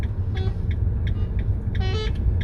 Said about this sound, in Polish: nie trąb na nich, bo mogą się przestraszyć